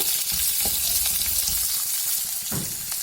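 A large onion fries in a pan with a steady, close crackling sizzle and occasional stirring scrapes, the hiss holding throughout while cooking for a bottle gourd chutney.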